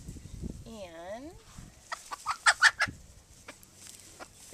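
A Polish breed chicken clucks close by in a coop setting, giving a rising-falling call followed by a cluster of short sharp clucks, with light handling noise around it.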